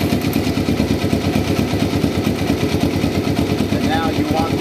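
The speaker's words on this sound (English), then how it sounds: "you're going to want to start the bike up, make sure that it's at the proper idle speed" A motorcycle being converted to a bobber, its engine running at idle with a fast, even, loud throbbing pulse, close by and steady throughout.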